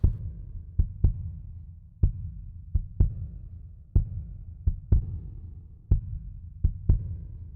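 Kick drum played to mimic a heartbeat: deep, booming thumps in paired and single beats, a dozen or so over several seconds, each decaying into a low resonant tail, alone and clear.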